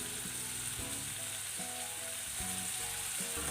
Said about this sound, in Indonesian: Kemudian ditumis sampai bumbu masak.